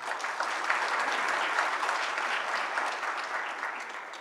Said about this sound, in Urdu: آپ اتنی تسلی سے تالی بجا رہے ہیں.